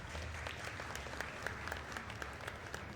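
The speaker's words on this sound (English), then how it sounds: "That would be applause for Shane Van Boning winning his match more than likely." Applause from a crowd at a pool tournament hall during a 10-ball championship, steady and moderately distant, with a few sharper claps standing out and no talk over it.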